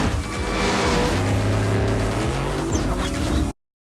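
Car engine revving loud and steady during a Furious 7 movie street-racing scene, a sustained growling drone held for about three and a half seconds before cutting off abruptly.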